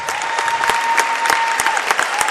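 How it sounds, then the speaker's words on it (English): A crowd at a high school basketball playoff game applauds seniors, a steady wash of clapping with sharper individual claps standing out throughout. "round of applause for these seniors"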